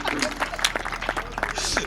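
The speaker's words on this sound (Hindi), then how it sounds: "क्या एक बार तालियां बजाई दीजिए।" An audience at a poetry event claps briefly in a loud burst of applause, the scattered claps mixing with murmuring voices.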